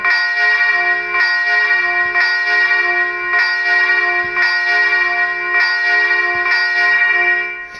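A swinging church bell tuned to F rings in steady, evenly spaced strikes, each loud clang blending into a sustained, shimmering hum that carries continuously throughout.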